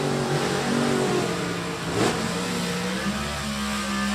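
Blue and silver factory Super Stock I Mustang drag car revving hard, a loud, sustained engine roar with shifting pitch, a brief dip and surge, then a steadier high drone.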